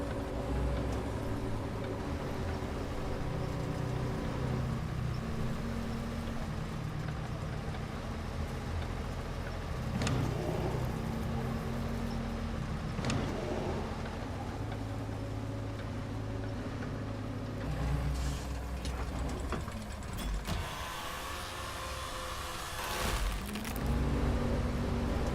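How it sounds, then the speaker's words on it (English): A logging truck in the video game RoadCraft grinds through loose sand among trees, its engine droning steadily and loud for the whole stretch, with occasional revs and knocks from the vehicle. "driving the truck or the logging porter in here"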